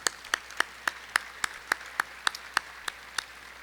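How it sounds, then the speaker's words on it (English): An audience claps in a steady, evenly spaced rhythm, about a dozen crisp claps in quick succession, close and fairly loud with no talking. "Let's give him a round of applause."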